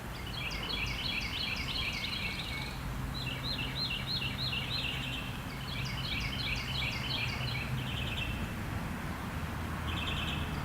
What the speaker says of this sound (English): I'm getting more of the birds